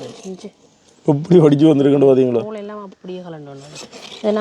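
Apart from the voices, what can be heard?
No everyday noise stands out behind the speech.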